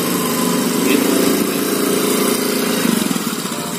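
A scooter engine runs steadily near by with a low mid-pitched drone, swelling slightly as the throttle is twisted open, then continuing with a faint rhythmic pulse.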